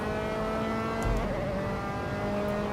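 Engine of an RSR Formula 3 race car at the Red Bull Ring in a racing game, a loud steady high-revving onboard whine with a brief shift stutter, no voices.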